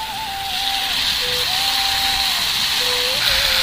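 Fried vegetables drop into spiced oil in a pan and release a steady, loud broadband sizzle, heard up close with a faint thin whine running underneath.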